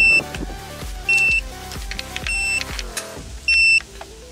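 GPS bait boat for carp fishing switched on, emitting a few short electronic beeps at intervals over faint clicks and handling noise.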